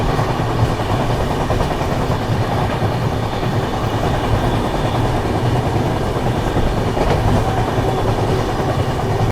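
Passenger train on the Barauni–New Delhi clone special running at speed on rails while overtaking a parallel train, with a steady loud rumble and rhythmic clickety-clack of wheels, continuous and close, no talk.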